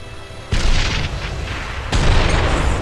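A grenade goes off in the Operation Darkness game as two heavy booms, the second about a second and a half after the first, each a loud, close blast with a rumbling tail.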